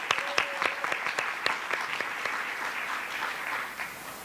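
Audience applause for a school principal at a community news event, a steady patter of hand claps with a few sharper individual claps standing out, moderately loud and sustained throughout.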